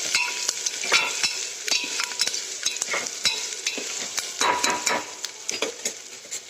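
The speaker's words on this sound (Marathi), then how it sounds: "कांदा चांगला भाजून परतून ठेवावा लागतो" Onions frying and being stirred in a pan for khichdi, a steady close sizzle broken by frequent sharp scrapes and clinks of a spoon against the pan, with no voices.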